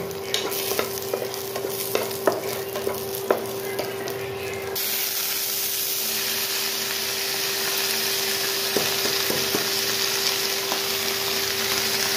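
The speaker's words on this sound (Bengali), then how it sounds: "রসুন ভাজছি" Steady hissing sizzle of garlic and green chillies frying in hot oil, with occasional spoon scrapes and clicks early on, continuous and close.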